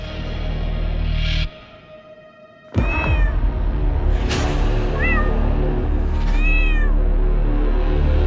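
A pet cat meows several times at close range, high drawn-out calls over a steady indoor background broken by a few sharp knocks, with no speech.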